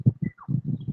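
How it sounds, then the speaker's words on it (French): Small birds chirping outdoors, with brief high chirps heard faintly and intermittently beneath a louder, steady low rumble. "Agréable, petits oiseaux,"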